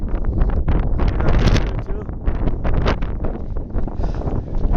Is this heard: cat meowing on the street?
no